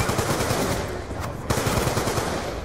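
An unsilenced gun fires in the video game Black Ops 2, a loud, continuous rapid stream of close automatic shots with no pauses.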